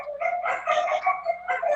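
A dog barks and yips in quick, strained bursts, fairly close and moderately loud, in a short run of whining, yelping calls with no talk over them.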